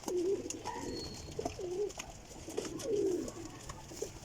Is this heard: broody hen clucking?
no